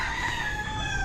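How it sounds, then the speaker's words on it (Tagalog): Rooster crowing among a man's birds, one short, loud, harmonic crow heard up close with faint background noise and no talking. "ang gaganda ng manok ng Tatay Hemi mga kautol"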